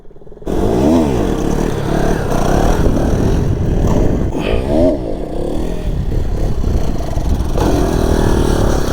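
A stock Bajaj Pulsar NS 200 motorcycle starts abruptly, then its engine revs loudly and close with repeated rising and falling throttle blips during wheelie practice.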